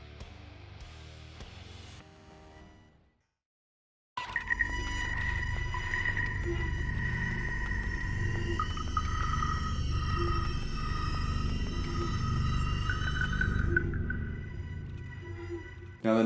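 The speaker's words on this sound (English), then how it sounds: "there's a lot of like metal kind of clanking and just kind of buttons being sounded like they're being pushed." An industrial factory atmosphere from a Doom-style music track, with metal clanking and mechanical button presses mixed into droning, resonant tones. A short patterned intro drops to silence, then a dense, sustained wash of sound with low rumble and wavering high tones.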